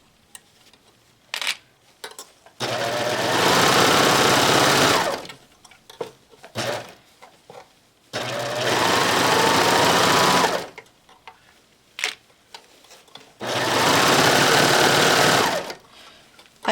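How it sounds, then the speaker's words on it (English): A serger sewing machine stitches around a fabric tube for an infinity scarf, running in three long steady bursts of dense whirring separated by quieter pauses with small handling clicks. "I'm going to sew all around this tube"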